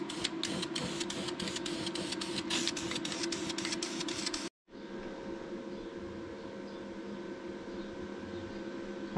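An aerosol spray can is shaken and then sprayed onto a car subframe in a garage, a loud steady hiss with rapid rattling at first, a brief gap, then continuous hissing spray.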